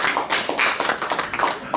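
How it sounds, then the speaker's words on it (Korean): Applause from a temple congregation during a Buddhist sermon, a short burst of many hands clapping at close range, fairly brisk with a slightly uneven rhythm. "박수를 다시 박수요"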